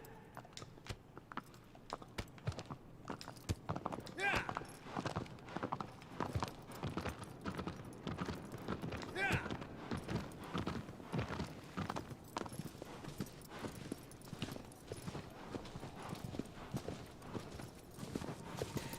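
Rapid horse hoofbeats clatter in a steady galloping rhythm in the video game Shadow of the Colossus, fairly close and continuous, with a few faint background noises.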